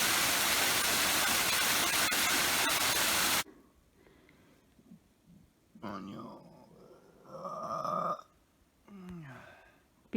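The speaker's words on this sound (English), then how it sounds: "Cascading waterfall." A cascading waterfall on a mountain trail gives a loud, steady rushing roar that cuts off abruptly partway through, followed by quiet outdoor ambience and people talking.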